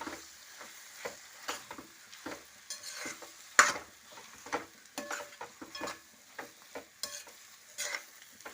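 A spoon stirs potato peanut curry in a pan, making repeated soft scrapes and taps with a quiet sizzle underneath. One sharp clink of metal on the pan stands out. The sound is close and fairly faint throughout.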